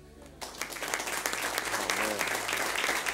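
A church congregation breaks into applause for a member's fifteenth birthday, the clapping starting abruptly after a brief quiet moment and continuing steadily and dense throughout.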